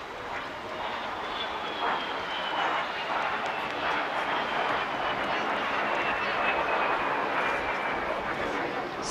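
A de Havilland Vampire twin-tail jet passes along the seafront at an airshow, its engine a steady roar with a slowly falling whine, heard at a distance under crowd ambience.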